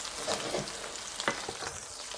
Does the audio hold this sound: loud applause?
no